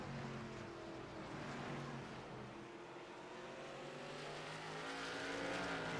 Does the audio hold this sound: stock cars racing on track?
yes